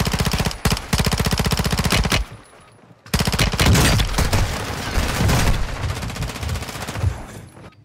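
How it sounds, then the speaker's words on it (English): Rapid, loud automatic gunfire in a video game battle, long fast bursts from several guns that break off briefly and then return even denser, with overlapping shots and booms. "Getting shot from three angles is crazy."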